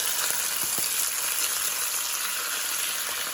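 Chicken biryani ingredients sizzle and fry steadily in a pan over low heat, a constant close hiss with a few soft stirring knocks.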